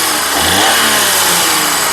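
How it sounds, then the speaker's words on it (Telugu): Close, loud engine of a 2010 Alto LXi car revving, its pitch rising and holding before easing slightly; no speech. "ఒకసారి స్టార్ట్ చేయి సింగిల్ సెల్ఫ్లో కార్ స్టార్ట్ అవుతుంది"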